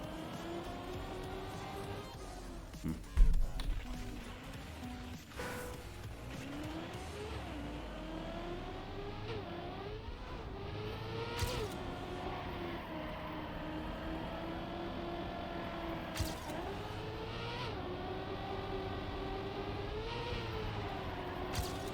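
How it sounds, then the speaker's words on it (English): Cars driving in the Trackmania racing game, a continuous engine drone with rising and falling pitch as cars accelerate and pass, fairly quiet, with occasional brief knocks and bursts. "Why are cars driving the other way around here?"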